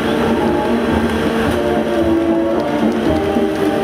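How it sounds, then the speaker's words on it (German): A mobile surface-to-air rocket launcher vehicle powered by two petrol V8 engines rumbles steadily at a museum field parade, a loud continuous engine drone that holds evenly throughout without speech. "Angetrieben wird das Fahrzeug von zwei Benzin V8 Motoren."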